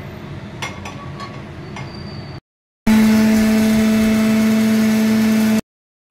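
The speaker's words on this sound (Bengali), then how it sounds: "আর এইটাকে আমি এই শুকনো লঙ্কা আর সর্ষেটা মিক্সিতে ব্লেন্ড করে রাখি" An electric mixer grinder blending dried red chillies and mustard seeds runs loud and steady with a strong whine for about three seconds, then cuts off abruptly. Quieter kitchen noise comes before it.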